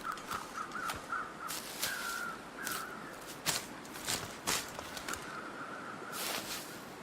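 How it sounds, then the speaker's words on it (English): Repeated crow caws from a video game ring out one after another, some overlapping, over a soft steady background with occasional footstep-like thumps. "I want the crows to drop feathers."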